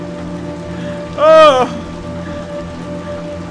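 Rain falls steadily in the video game Little Nightmares 2, a soft even hiss running under the scene, briefly overlapped by a short vocal exclamation and a louder tonal sound near the middle.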